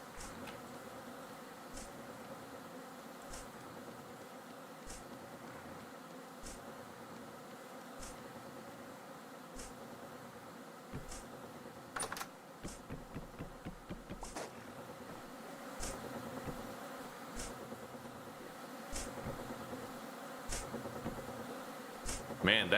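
Bees buzzing in Vintage Story around skeps, a steady insect drone with low engine-like hum under a quiet game ambience, with a clattering burst of activity near the middle.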